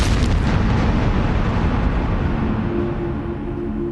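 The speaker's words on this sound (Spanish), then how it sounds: "Explota y Grau desaparece con esa explosión" A bomb explodes aboard the Peruvian warship Huáscar, giving a loud, deep rumbling blast that fills the whole span and slowly fades, with no voices.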